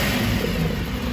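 A Nissan Skyline Hakosuka fitted with a TC24 engine and OS twin-cam tappet cover, heard at the intake as the engine revs; a loud, steady, dense roar fills the short stretch without a break.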